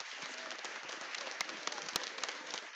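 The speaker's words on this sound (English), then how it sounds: "Let me give them a round of applause." Applause at an elementary school holiday concert for the office staff, a soft, distant patter of many hands with a couple of sharp nearby claps poking out.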